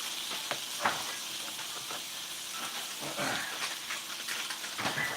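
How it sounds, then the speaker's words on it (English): Steady, crackling sizzle of food frying on a hot pan, with faint clinks and scrapes of utensils now and then. "Listen to that sizzle."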